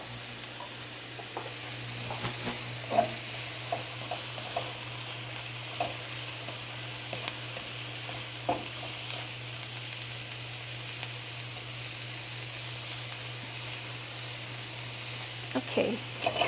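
Onion sizzling in a pan while a spoon stirs it, giving a steady close frying hiss broken by scattered scraping clicks and knocks.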